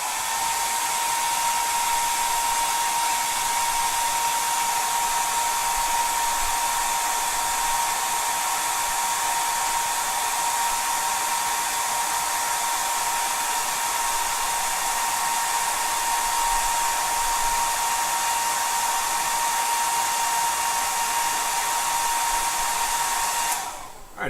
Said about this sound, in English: you're going to have to keep it in the house and try blow drying